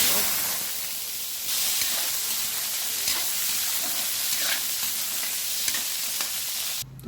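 Potato pieces fry in hot oil in a pan, giving a loud, steady, dense sizzle and crackle that runs the whole time and breaks off sharply at the end.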